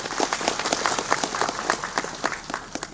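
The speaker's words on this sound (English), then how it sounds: "let us all give a big round of applause for that" Crowd applause at a centenary celebration of Maram–Angami unity, lively individual claps popping out of a brisk, close wash of clapping that lasts a few seconds.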